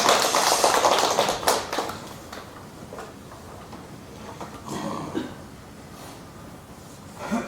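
A church congregation claps in a loud burst of rapid, overlapping hand claps at the start, which then thins to a scattered patter and a few faint taps, rising briefly again near the middle and at the end.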